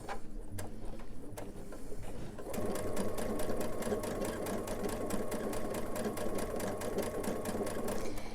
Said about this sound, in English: I'm gonna start stitching